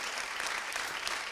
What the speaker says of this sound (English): we get to clap for that right now, really loudly